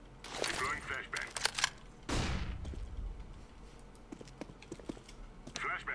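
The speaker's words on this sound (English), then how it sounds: "Deploying flashbang." A flashbang grenade goes off in the video game CS:GO as one sudden loud burst, surrounded by scattered gunfire cracks and keyboard clicks.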